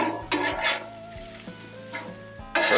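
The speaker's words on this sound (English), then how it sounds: "we're going to put our garlic in. And we're going to keep that moving" Minced garlic sizzles steadily on a hot Blackstone griddle while a metal spatula stirs it, scraping and clinking against the steel surface in a few distinct strokes, with a louder burst of frying at the end.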